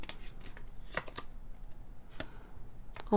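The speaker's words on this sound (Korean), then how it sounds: "조언 카드 뽑아보도록 하겠습니다" Tarot cards being shuffled and drawn, several quick soft riffling and flicking bursts, close and quiet, separated by short pauses.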